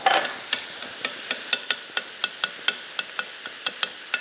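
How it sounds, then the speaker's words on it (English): Peeled tomatoes sizzling in a hot pan, a steady frying hiss broken by regular sharp spits and pops roughly every half second, close up and without speech. "You add your tomato, peeled tomato"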